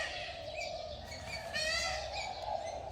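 Caged birds, including doves and a peacock, call inside an aviary: a few short chirps and a brief warbling trill over a faint steady background hum.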